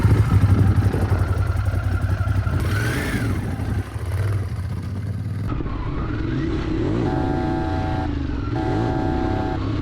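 A Ducati Streetfighter V4S motorcycle running on the road, a steady loud engine drone with rising and falling revs under strong rushing wind noise, with a brief pair of electronic beeps near the end.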